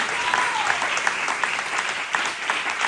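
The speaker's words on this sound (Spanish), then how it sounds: "Después me da un fuerte aplauso a él" A church congregation giving strong applause, a dense, continuous wash of many hands clapping at once, steady and fairly loud throughout, with no talk.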